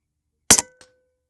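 A Huben K1 .22 air rifle fires once with a sharp crack, followed a moment later by a faint metallic clink from the pellet striking a distant target, then silence.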